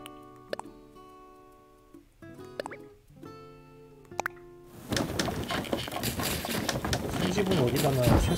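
Bird cooing in the Animal Crossing video game, soft plucky calls and drips repeating over a quiet island ambience, then a busier, louder stretch of mixed game sounds takes over.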